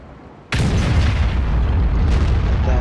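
A tank gun fires in a World of Tanks style game, the SU-152 letting off a single sudden loud boom that rolls on into a long, dense rumbling roar with no voices over it.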